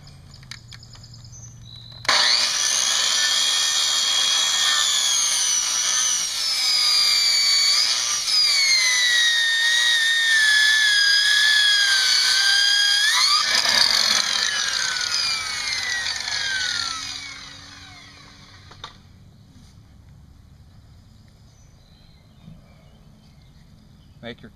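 Power saw ripping through wood for a raised garden bed, one long loud steady cut of about fifteen seconds with shifting pitch, then winding down to quiet.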